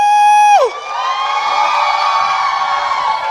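Conference crowd cheers and whoops at a speaking event, a sustained rising mass of voices following a brief tonal burst at the start, loud and continuous.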